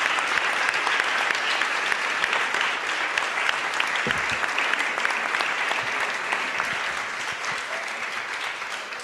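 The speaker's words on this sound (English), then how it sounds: "So huge applause, please," An audience applauding the team at a European cultural policy conference, a sustained, even wash of many hands clapping from start to finish, full and steady.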